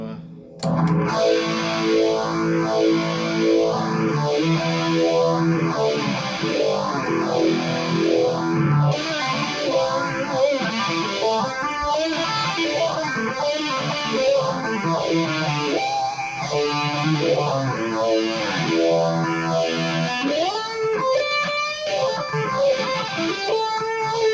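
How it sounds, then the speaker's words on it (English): Distorted electric guitar runs through a Kmise Vintage Phase pedal, its tone sweeping up and down in a slow, repeating whoosh as chords ring out. "And then we can add a little distortion to"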